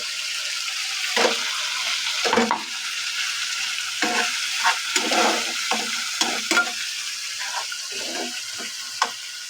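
Masala for singara filling fries in a pan as peanuts are added, with a loud sizzle under repeated scraping stirs of a spatula.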